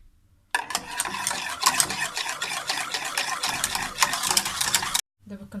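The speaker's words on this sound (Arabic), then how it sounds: "من الاحسن نديرو الفوي باش يتخلط لينا داكشي مزيان" A whisk stirs caramel cake batter in a bowl with quick, continuous scraping strokes for several seconds, steady and close, with no talking.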